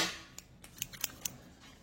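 Scissors snip through the seal of a Samsung Evo Plus 128GB microSD card package, giving a few sharp, quiet clicks spaced about a quarter second apart against faint room noise.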